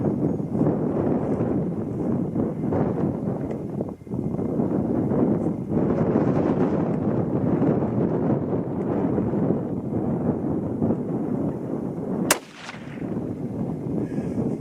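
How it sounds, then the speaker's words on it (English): Wind at about 15 miles an hour blows across an outdoor rifle range. It makes a loud, steady low roar against the microphone, dips briefly twice, and is broken once by a single sharp crack near the end. "Wind is kicking up about 15 miles an hour, blowing directly diagonal to the rifle."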